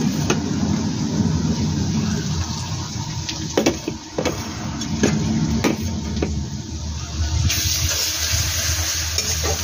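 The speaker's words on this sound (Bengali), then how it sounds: "রসুন দিয়ে নাড়ছি" Garlic, ginger and chilli sizzle in a hot pan while being stirred. The frying hiss is loud and continuous, and sharp scraping clinks from the stirring utensil come at irregular moments.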